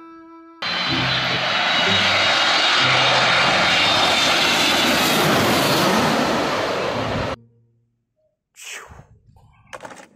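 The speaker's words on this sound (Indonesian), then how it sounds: "Wow, ada pesawat terbang teman-teman." A loud airplane engine roars steadily for several seconds, then cuts off, followed by a few faint clunks and knocks.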